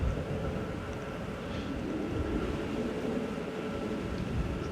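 An airliner taxiing at Manchester Airport makes a steady, distant broadband rumble with a low engine drone, holding an even level and heard alone without voices.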